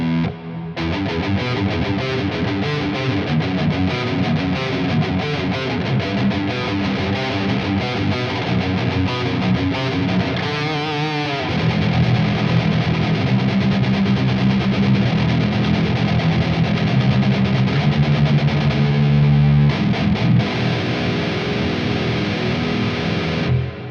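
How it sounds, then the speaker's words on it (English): Electric guitar played through the JST Toneforge Disruptor amp sim plugin with reverb gives heavy, loud distorted riffing that runs continuously, with sustained chugging chords and a reverb tail, and no talk. "That's probably one of the nicer reverbs that I've found on a lot of amp sim plugins."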